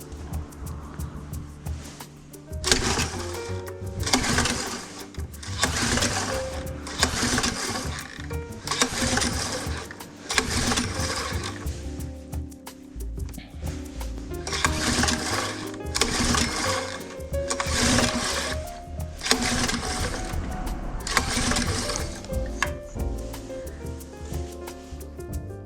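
Repeated recoil-start attempts on a Honda FG201 Holiday tiller engine after its fuel hose was cleaned: a steady series of loud rasping pulls about every second or two, near and rhythmic, without the engine settling into a run.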